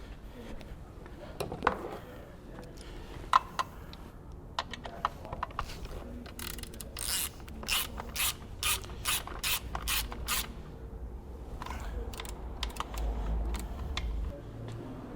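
A hand ratchet clicks in quick bursts while tightening a brake line bracket bolt on a GSXR motorcycle, with a run of rapid, evenly spaced clicks in the middle and scattered metallic taps before and after.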